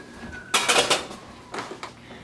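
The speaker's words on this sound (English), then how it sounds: "So now we're going to want to take out our frying pan." A frying pan is pulled out in a kitchen, clattering loudly against other cookware for about half a second, followed by a few softer metallic knocks and scrapes, close by and with no talking.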